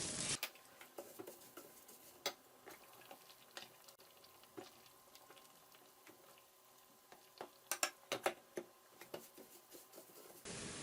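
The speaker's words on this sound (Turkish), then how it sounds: "bulgurumuzu kavuralım" Bulgur is toasted in a pan as a faint, steady crackling sizzle with scattered light ticks and patters, and a brief cluster of sharper clicks near the end. Nobody talks.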